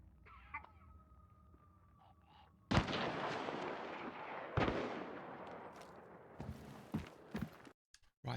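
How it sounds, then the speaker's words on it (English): Gunfire in the video game Hunt: Showdown, starting with faint distant ambience, then a sudden loud shot followed by a rumbling tail, a second heavy shot and scattered sharper cracks, no talk. "there's shooting going on the other side of the building."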